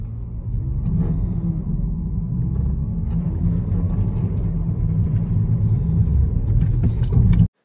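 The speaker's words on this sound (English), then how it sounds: "Take a listen to the engine." A car accelerates in snow on Cooper CS5 Ultra Touring all-season tires, its engine producing a loud, steady low rumble that holds for several seconds before cutting off abruptly, with no talking.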